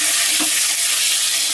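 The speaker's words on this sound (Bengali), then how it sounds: "আমি চিংড়ি মাছগুলো হালকা করে ভেজে নেব" Prawns frying in oil seasoned with salt and turmeric make a steady, close sizzle with faint stirring, heard alone throughout.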